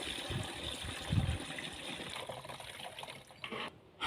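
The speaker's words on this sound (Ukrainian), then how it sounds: "Заливаємо її в оприскувач." Pesticide mixture poured into a garden sprayer outdoors, a soft liquid trickle and splash with a brief heavier gush near the start, fairly faint and steady without speech.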